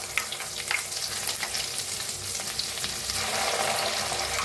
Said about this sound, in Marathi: आता छान भाजून घेऊया।